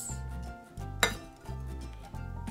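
Retro metal camping cookware (kocher) gives a single sharp metallic clink as its lid-plate is handled, over a steady low background hum.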